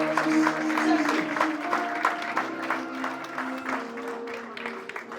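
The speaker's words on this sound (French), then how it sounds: "Applaudissons pour eux." A church congregation applauds graduates at an evening graduation service, a steady wash of clapping from many hands lasting several seconds, with some crowd murmur and a sustained musical tone underneath.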